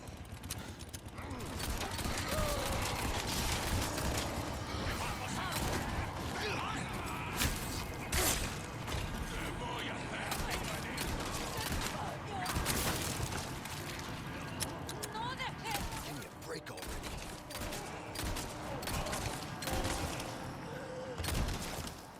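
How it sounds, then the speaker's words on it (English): Rapid handgun fire from Resident Evil 4 Remake rattles off in quick dense succession, mixed with mechanical clicks and game effects throughout, while a voice talks over much of it. "I can shoot as many shots as it takes at a rapid succession to take them out very quickly"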